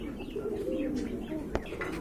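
A running pair of pigeons with long foot feathers coos softly and repeatedly close by, with a faint chirp and a brief flutter of wings, and no talk.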